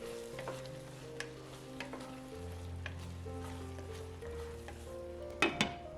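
Shakshuka simmering in a pan with the lid off, a soft steady bubbling sizzle with a few light stirring clicks and a brief clink of a utensil near the end.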